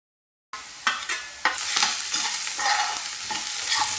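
Finely chopped onions land in a pan with a tablespoon of hot oil and sizzle steadily, with a few scraping stirs near the start, after half a second of silence, and no voices.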